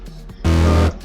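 A single deep, boomy kick drum sample processed with the Kickstart plugin in a music track sounds once, loud and sustained for about half a second, alone without talk.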